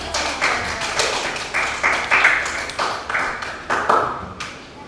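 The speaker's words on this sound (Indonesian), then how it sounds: "Oke, tepuk tangan dulu." A sixth-grade elementary school class claps their hands in a steady rhythmic pattern of sharp, repeated bursts, fairly close and loud, with no talking over them.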